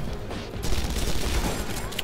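Dense gunfire in Red Faction: Guerrilla in the Badlands, a continuous rumbling barrage of shots and blasts that swells partway through and stays loud to the end.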